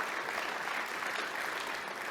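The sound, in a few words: applause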